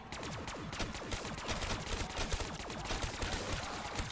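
Rapid, dense gunfire from the Zeus cannon in Black Ops 3 Zombies, a sustained fusillade of overlapping shots and blasts running loud and continuous throughout, with no talk.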